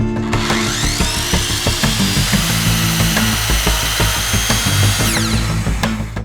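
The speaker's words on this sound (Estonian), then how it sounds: "Alustan sellega, et lõikan tugipostid õigesse mõõtu ning selleks kasutan ketasaagi." A circular saw cutting wooden support posts to length: a loud, close, high whining blade with repeated rising and falling pitch as it bites through the wood.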